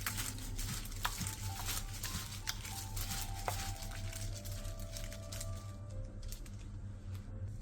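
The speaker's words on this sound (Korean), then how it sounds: "그 다음 반죽에 굴을 넣은 뒤 굴에 반죽을 골고루 묻혀주세요." Oysters being turned and coated evenly in batter make faint, wet squishing and stirring sounds, soft and close, with light scattered clicks throughout.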